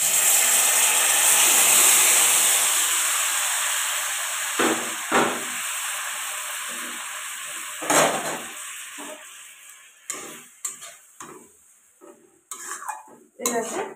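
Grated coconut cooks in a kadai and is stirred with a metal spatula, opening with a loud steamy hiss that slowly fades, followed by intermittent scraping and clinking strokes against the pan.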